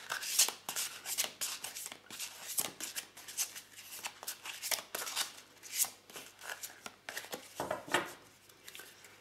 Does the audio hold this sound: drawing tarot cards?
yes